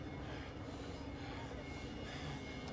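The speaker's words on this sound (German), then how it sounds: "Ah, okay, wir sind am Bahnhof." Train station ambience in the video game Heavy Rain: a steady rumble of rail traffic and station hubbub that runs without break, with no clear speech.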